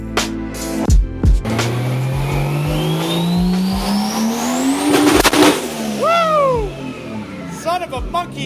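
Turbocharged 2JZ-swapped Honda S2000 on a dyno, its engine revving loud and close, the pitch climbing steadily through a long pull before dropping off, then short sharp blips, with voices heard over it.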